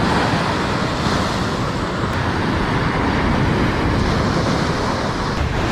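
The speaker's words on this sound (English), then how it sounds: "You see the waves are breaking," Surf waves breaking steadily on an ocean beach at Gunnamatta, Victoria, a broad continuous roar of whitewater with wind, loud and close throughout with no talking.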